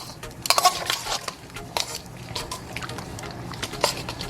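Red Stripe beer is poured over seasoned pork for oven jerk and stirred in, giving wet splashes and sloshing with a few sharp clinks of utensil against the dish, close and uneven.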